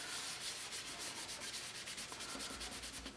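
Ink on a Dylusions ink spray pad craft surface being rubbed, a soft rhythmic scrubbing sound with repeated strokes, close and quiet, no talking.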